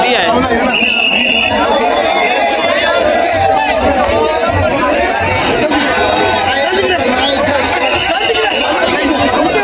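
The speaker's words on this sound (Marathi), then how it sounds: "एवढे पट्टे गर्दी आहे।" Dense crowd chatter from people waiting for a Ganpati procession, a loud, continuous babble of many voices with occasional high buzzing tones and no letup.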